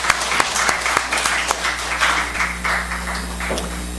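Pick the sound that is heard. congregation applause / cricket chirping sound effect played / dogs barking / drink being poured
congregation applause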